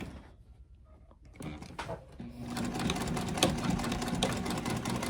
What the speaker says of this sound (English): And back stitch well here.